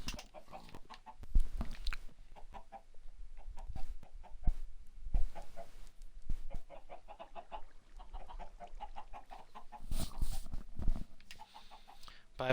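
A flock of Minecraft chickens keeps up a lively stream of close clucks and squawks, rising and falling in irregular bursts over a dull background rumble, with no talking.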